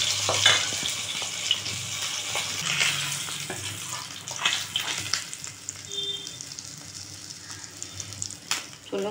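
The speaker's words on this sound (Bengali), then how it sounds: "চলুন তাহলে এইভাবে মাছ কটা ভেজে নিই" Katla fish pieces fry in hot oil for Bengali doi katla, giving a continuous crackling sizzle close by, with bursts of louder spattering as the pieces are stirred and turned.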